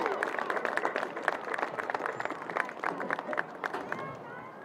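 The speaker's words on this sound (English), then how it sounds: "let's have one more big round of applause for all of our senior athletes and their families." Crowd at a girls varsity soccer senior night applauding the senior athletes and their families, with dense clapping and scattered cheers rising and falling over several seconds, a little distant and under a loose crowd murmur.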